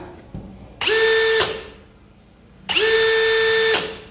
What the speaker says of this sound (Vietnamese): mình sẽ bật thử cho bạn nghe tiếng kêu của máy nha